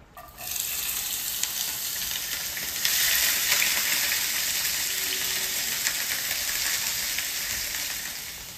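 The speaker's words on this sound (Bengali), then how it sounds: "তো এগুলিকে কিন্তু আমি হালকা ফ্রাই করব, এগুলিকে খুব বেশি ফ্রাই আমি করব না।" Cubes of tomato, onion and garlic fry lightly in oil with a close, even sizzle that rises quickly and holds steady, swelling a little partway through.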